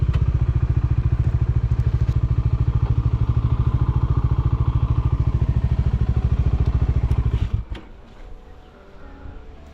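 A motorcycle engine chugs loud and close at a fast, even idle-like beat during a ride through rainy hill country in Idukki, then cuts off abruptly near the end, leaving faint rustling ambience.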